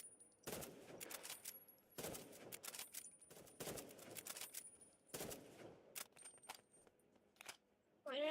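Gunfire in the Roblox shooter Rivals during one-on-one matches; several sharp bursts of rapid shots in quick clusters, close and loud against a quiet background, with a short electronic tone near the end and no talking.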